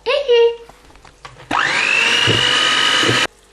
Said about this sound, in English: electric whisk. Keep whisking these egg whites until you can flip them over your head